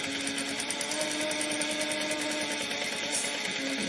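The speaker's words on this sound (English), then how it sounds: "So I'm gonna just back stitch a little bit" Sewing machine stitching backward while making a bag, a steady close whir and rapid needle hum running without pause.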